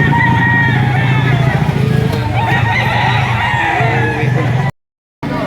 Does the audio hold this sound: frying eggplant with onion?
no